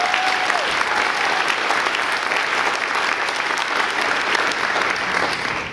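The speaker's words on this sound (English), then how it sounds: "So how about a round of applause for Larry Doyle?" Steady, dense applause from a seated audience at a book event, welcoming author Larry Doyle. It runs evenly for several seconds at moderate loudness with no talk over it, then begins to taper at the end.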